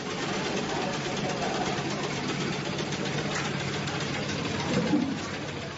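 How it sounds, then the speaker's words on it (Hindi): Sewing machines hum and rattle continuously at a steady pace, running together in a village room, with a faint murmur of voices underneath. "बघारी गांव आजकल सिलाई मशीनों की आवाज से गुलजार है"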